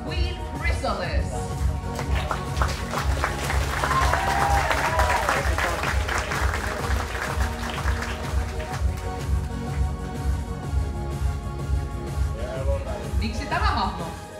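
Audience applauds at the Poniconi 2023 cosplay contest, a steady wash of clapping over a low, rhythmic background music beat, with voices talking faintly underneath.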